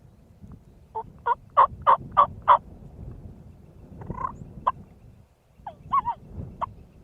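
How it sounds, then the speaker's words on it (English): Merriam's wild turkey toms gobble in a series of loud rattling bursts near an old home site, a rapid run of about six calls followed by further separate gobbles, over a low rumbling outdoor background. "the gobblers responded good to us"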